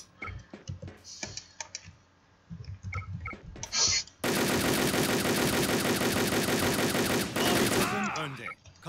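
Rapid bursts of automatic gunfire in the online shooter game Wolfteam rattle loudly and continuously for several seconds, preceded by scattered keyboard clicks and brief quieter game sounds.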